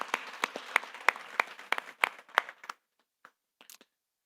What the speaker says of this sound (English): Let's give one more round of applause for everything you're doing.